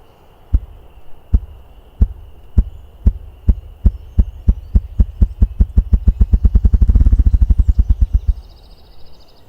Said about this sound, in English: is the bird beating his wings, so one thump is one beat of his wings